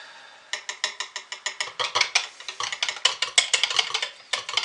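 Thick colored mixtures for a color swirl are stirred briskly, giving fast, rhythmic clicking and scraping strokes that repeat steadily, close by and fairly loud, with no talk.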